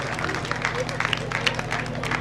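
An audience at a 1990-batch reunion gathering claps steadily, a dense patter of applause with crowd murmur and voices mixed in underneath throughout.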